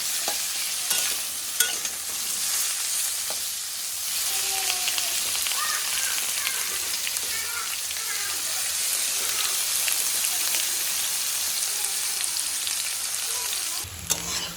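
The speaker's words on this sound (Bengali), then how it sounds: "সেটা কিন্তু ভালোভাবে লাল লাল করে ভেজে নেব।" Green jackfruit pieces frying in hot oil in a pan give a steady, loud sizzle with occasional stirring scrapes, running continuously throughout without any talk.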